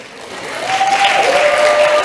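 A church congregation at a Sunday evening service claps and cheers loudly, the applause building and holding steady with a raised voice or two mixed in.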